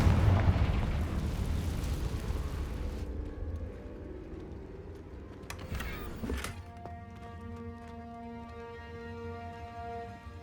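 A Confringo spell explosion in the video game Hogwarts Legacy: one loud, booming blast opens, then a rumbling tail fades over a few seconds, with scattered magical crackles and ringing tones after it.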